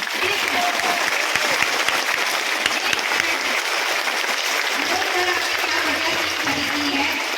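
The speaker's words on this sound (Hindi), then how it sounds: "इस चीज के लिए बहुत बड़ी ताली होनी चाहिए" Sustained applause from a large audience of women seated in a hall, loud and dense throughout with no pauses.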